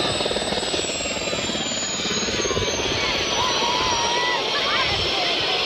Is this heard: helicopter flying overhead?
yes